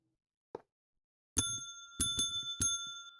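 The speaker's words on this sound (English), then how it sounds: "now we're hearing the bells" Bells ring in the video game Minecraft, heavily modded GregTech New Horizons, with a few bright, sharp dings spaced apart after a single soft tick, each chime ringing out clearly over near silence.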